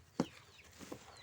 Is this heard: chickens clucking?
yes